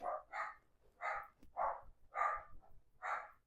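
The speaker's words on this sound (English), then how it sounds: "Dogs just like to bark, like they always do." Dogs barking in the distance, six or so evenly spaced woofs in a steady rhythm, faint and alone in an otherwise quiet room.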